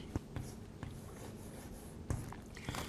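A hand writes an equation, a faint pen scratching on a surface with a few sharp taps and strokes scattered across a quiet room.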